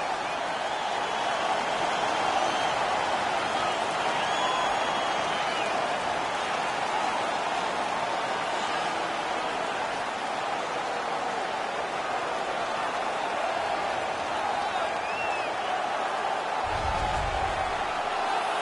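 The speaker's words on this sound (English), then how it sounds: "The home crowd is ecstatic. They're making all kinds of noise." An ice hockey arena crowd roaring and cheering in a steady, sustained wash of noise, distant and echoing.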